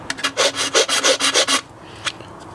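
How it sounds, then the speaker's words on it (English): A triangular file trimming melted plastic around a screw hole, about nine quick rasping strokes in a steady rhythm, close and crisp, then a pause with one faint scrape. "let's use the triangular file here for that"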